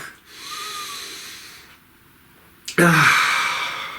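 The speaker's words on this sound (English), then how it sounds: "Please take a nice deep breath." A deep breath drawn in slowly and then let out as a forceful, hissing exhale, close and alone.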